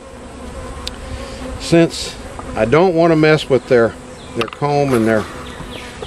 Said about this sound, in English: these bees are very prolific comb builders